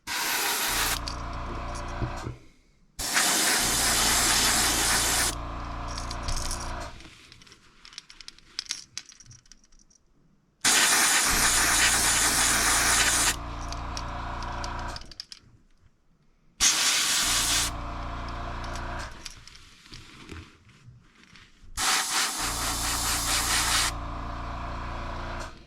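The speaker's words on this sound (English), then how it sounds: "this fluorescent paint definitely sprays quite a bit differently, so I got to just be careful because it comes out fast and furious" Fluorescent paint sprayed onto a fishing lure in several loud, sustained bursts of a few seconds each, separated by short pauses and quieter hissing gaps, with no talking.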